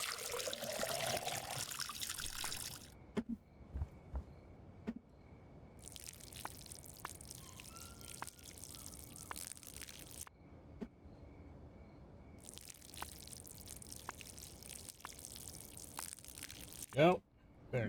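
Watering can filled with water in the game Schedule 1, a trickling, dripping pour in bursts of several seconds, separated by quieter gaps with clicks and soft background sound.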